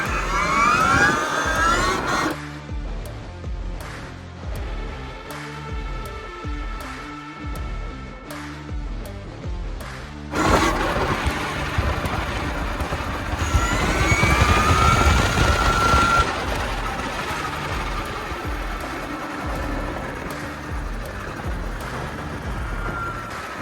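An electric trike ridden flat out at about 80 km/h gives a steady motor whine and strong wind rush. The sound runs loud and continuous throughout, with rising tonal sweeps in the middle stretch and no talking.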